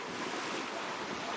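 Waves break and wash against the quay at Cité Soleil, Haiti, making a steady, loud, broadband rush of surf with wind noise across the microphone. No voices are heard.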